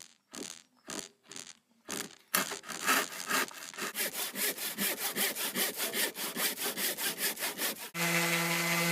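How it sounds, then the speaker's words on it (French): A handsaw cuts off the protruding ends of nailed pallet wood boards on a rustic wheelbarrow build: a few slow starting strokes, then fast regular rasping back-and-forth sawing, close and loud, ending in a brief louder scrape. "Lorsque tout est cloué, sciez les bouts qui dépassent."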